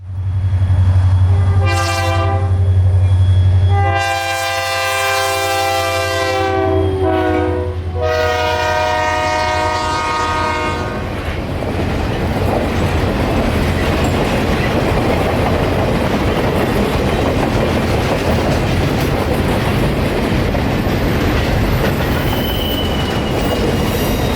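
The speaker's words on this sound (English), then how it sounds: "This one empty, now headed back into the fields for more sugarcane loads to bring back to Clewiston." An empty U.S. Sugar sugarcane train heads back to the fields, opening with a loud low rumble and several long horn blasts, then a continuous close roll of wagons with clicking, squealing wheels.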